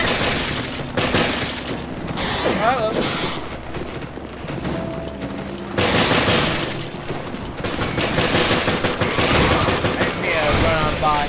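Gunfire in the video game Resident Evil: Revelations, with dense bursts of rapid shots and booming impacts over about eleven seconds, loud and continuous, mixed with game effects and voices.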